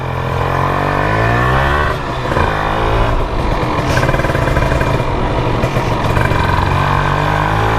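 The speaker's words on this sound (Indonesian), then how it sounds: "dari motornya sekarang kita nyalain" A Kawasaki Ninja R 150 L motorcycle engine fires up and settles into a loud, steady idle, its rumble continuous and close with a slight uneven throb.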